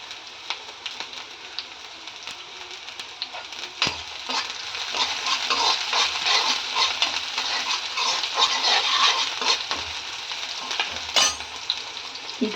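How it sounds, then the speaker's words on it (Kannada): Onions and green chillies fry in a pan for a soya chicken dish, giving a steady, close sizzle with scattered clinks and scrapes from stirring that swell in the middle. "ಈರುಳ್ಳಿ ಸ್ವಲ್ಪ ಕೆಂಪಗೆ ಬರೋ ಹಂಗೆ ಹುರಿಬೇಕು. ಈಗ ಹಸಿಮೆಣಸಿನ್ಕಾಯಿ ಹಾಕ್ತಾ ಇದ್ದೀನಿ"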